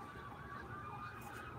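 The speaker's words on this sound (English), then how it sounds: "Sorry about the sirens." Emergency vehicle sirens wail outside after a nearby accident, a steady rising-and-falling tone heard continuously at moderate level through the room, with no talking.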